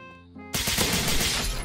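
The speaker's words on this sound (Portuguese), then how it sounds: "é muito alto o barulho de tiro" Sudden loud burst of rapid gunfire in a Brazilian shooter video game, a dense continuous volley that erupts after a quieter moment and keeps going to the end.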